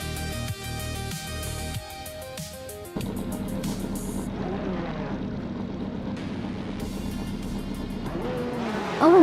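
Race cars start a race at Circuit Gilles Villeneuve in a racing video game. Loud, close engines rev and whine with rising and falling tones through gear shifts, and the roar continues without talk.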